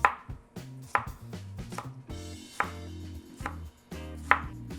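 A knife slices fresh mango and cantaloupe into thin slices on a cutting board, giving a series of crisp, close, rhythmic chops and taps, about one every half second, with no voices.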